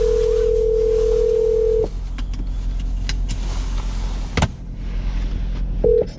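A steady telephone dial tone hums alone for about two seconds before a call, then cuts off into a low engine-like rumble, and a short burst of the same tone returns near the end.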